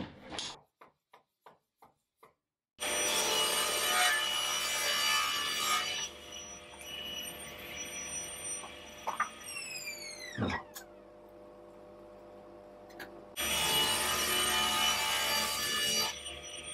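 Thin wood strips are cut on a saw guided by feather boards: the blade spins up, bites through the wood with a sustained rasping whine, and winds down, following a few light taps and preceding another cut.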